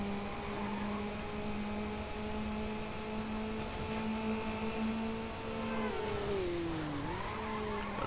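Race car engines in the Need for Speed Underground video game drone with a steady high-pitched tone, holding pitch for several seconds and then dipping sharply as a shift or slowdown occurs, loud and continuous.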